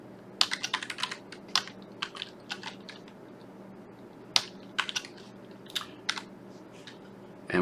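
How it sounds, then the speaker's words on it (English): Rapid, uneven keystrokes on a computer keyboard as C# code is typed into a console program, close and fairly quiet over a low steady room hum, with short pauses between bursts. "you want to type in between these two curly braces. So we're just going to type"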